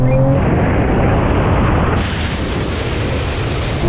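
Engines roaring at full throttle as a tuned GTR, a Porsche 911 and an electric rally car launch in a rolling drag race with kick down, a loud continuous surge of engine and road noise heard close from inside a car.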